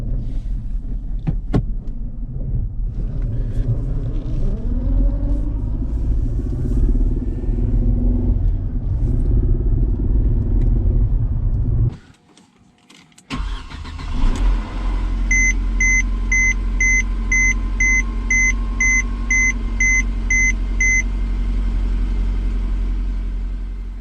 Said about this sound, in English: Yeah, it's misfiring. One cylinder misfiring.